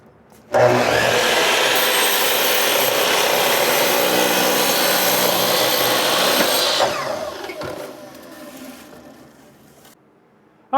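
Power saw cutting wood pieces on a workshop table or miter saw, starting abruptly into a loud sustained whining roar, then winding down over a few seconds to near silence.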